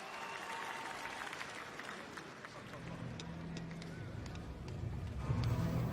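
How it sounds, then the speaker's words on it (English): A crowd at a professional boxing event claps and cheers in a dense, continuous wash that swells toward the end, with voices mixed in. "imploring the crowd for more encouragement and applause after the accomplishment of Vladimir Mironchikov"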